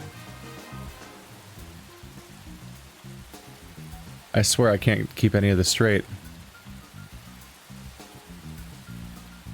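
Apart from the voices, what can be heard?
rain falling in the video game Deadly Premonition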